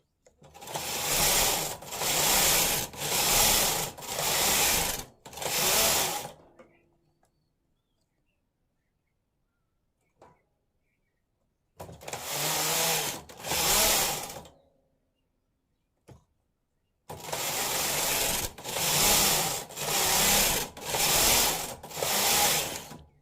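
A knitting machine knitting a sleeve for a ladies' coat in two colours, loud rhythmic carriage passes sliding back and forth in bursts, separated by stretches of near silence.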